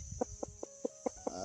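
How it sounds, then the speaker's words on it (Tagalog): A white chicken clucks six times in a quick, even series, close by and fairly loud against a faint steady background hum. "Yan yung manok na puti"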